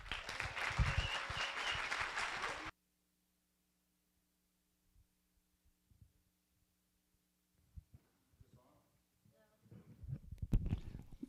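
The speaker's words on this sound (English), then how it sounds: "Can we please get a huge round of applause for Gwyllm Llywdd?" Audience applause welcoming a speaker to a talk on psychedelic dreamwork, a dense burst of clapping for the first few seconds that stops abruptly, followed by near silence with faint rustles and a few scattered claps.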